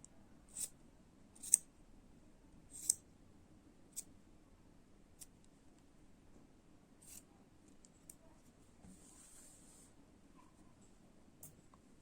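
Scissors trim the yarn ends of a hand-knitted scarf to one even length, giving a few sharp, separate snips close by in a quiet room.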